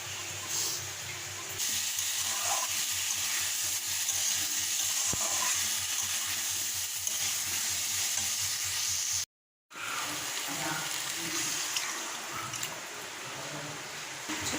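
Dal with potatoes cooking on a stove, a continuous close sizzle and bubbling hiss with light stirring, briefly cutting out before resuming.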